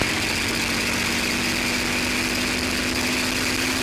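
Piper Cherokee airplane engine running up to 2,300 RPM during a ground check, a steady loud droning roar with a constant tone, heard close and unbroken throughout.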